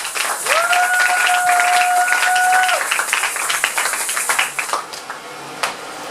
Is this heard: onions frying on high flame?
no